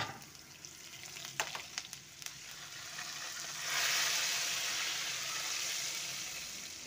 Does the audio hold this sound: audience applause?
no